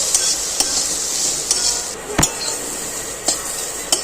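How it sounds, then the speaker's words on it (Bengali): Drumstick stems are stirred and sautéed in a hot pan for a Bengali shukto, giving a steady sizzle broken by sharp spatula scrapes and clacks against the pan at irregular intervals. "ডাটাটাও দিয়ে দেবো একসাথে একটু নেড়ে ফেলে সাঁতলে নেবো ডাটাটাকেও"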